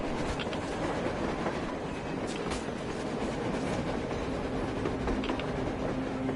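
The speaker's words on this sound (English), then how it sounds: "A train! A damn train on the surface!" A train rolls along rails on the surface in Metro Exodus, a loud, dense, continuous rumble with faint clickety-clack and a thin metallic whine, steady from start to end.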